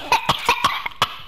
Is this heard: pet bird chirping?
no